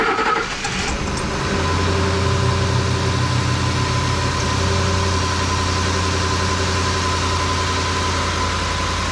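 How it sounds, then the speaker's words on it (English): A 2010 Ford F150 with the 5.4 liter engine idles steadily at close range, a smooth low hum with a constant deep tone following a brief start-up surge, and no voices over it. "Sounds like it's idling fine"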